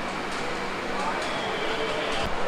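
A sleeper-coach train pulls out of Sealdah station, giving a steady, loud rumbling roar with faint rhythmic clatter, heard from inside the carriage with a broad wash of noise throughout.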